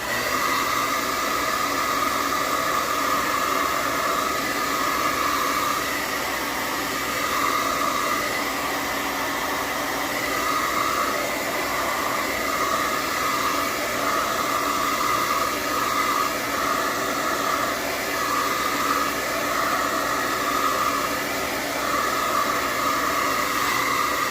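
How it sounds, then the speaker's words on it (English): A hair dryer blows continuously while drying watercolor paint, a loud, steady whooshing roar with a faint whine that holds unbroken throughout. "I'm going to use my hair dryer again. Excuse the noise."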